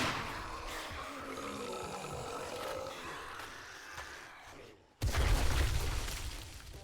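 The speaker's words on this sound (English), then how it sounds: "That was quite the explosion." A loud, rumbling roar of mixed noise, then a sudden booming burst after a brief silence, as a blast erupts in the survival game 7 Days to Die.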